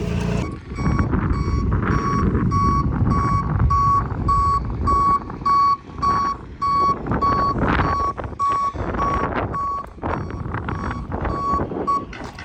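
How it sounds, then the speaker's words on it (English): Tow truck arriving to load a car, its reversing alarm beeping in a steady rhythmic pattern over diesel engine rumble, close and loud for the whole stretch. "tow truck has arrived and it is time to load her up"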